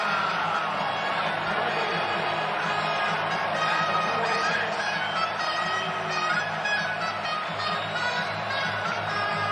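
Crowd noise builds at Missouri's home football stadium before a third-down play against Georgia. A dense, steady roar fills the air throughout, with some voices audible underneath.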